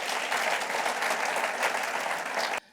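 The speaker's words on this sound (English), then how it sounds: "Let's give him a round of applause." An audience at a leadership talk applauds loudly and steadily, a dense wash of clapping that holds evenly for over two seconds and then cuts off abruptly.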